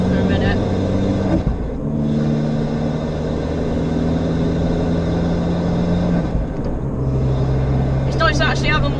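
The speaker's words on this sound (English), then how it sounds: "you can obviously still hear the intake doing its thing" Abarth car fitted with an induction kit, driven normally on a dual carriageway: a steady engine drone and intake whoosh that shifts pitch with gear changes, heard from inside the cabin while someone talks over it.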